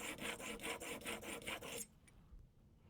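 A Magnus broadhead is drawn back and forth across sandpaper in a rapid, even rasping rhythm, close and fairly loud, before the scraping stops and only faint room noise and a light tap remain.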